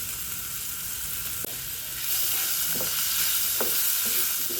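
Chopped tomato fries in a hot pan for egg curry, a steady loud sizzle with several soft stirring scrapes and taps.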